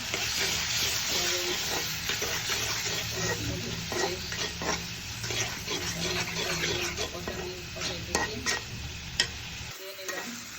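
Chewa fish sizzles steadily in hot oil with turmeric and chili, a constant close crackle punctuated by scattered stirring clicks and scrapes.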